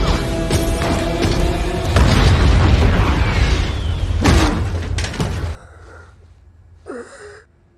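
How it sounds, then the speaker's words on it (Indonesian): A bomb blast from the action film Nobody erupts in a loud, dense roar of booming debris and crashes that rage for several seconds, then cut off abruptly, leaving a brief quieter rumble and one short sharp burst near the end. "kini Julian harus menjemput ajalnya dengan bom yang diberikan oleh Mansell tepat di depan mukanya"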